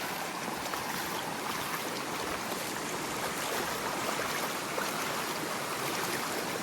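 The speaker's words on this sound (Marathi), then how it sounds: "धबधबा असल्यासारख्या वाटतं पुढे" River water spills down from a slight height like a small waterfall near a fishing village, making a steady, loud, unbroken rush that fills the whole stretch with no voices.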